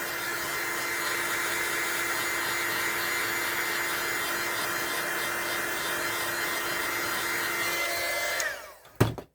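A dryer blows a steady, loud rush of air over a freshly made resin art piece, continuous for several seconds before switching off with a short clunk.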